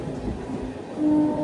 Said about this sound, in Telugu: హిందూపూర్లో ఏదో ట్రైన్ ఉంది అక్కడ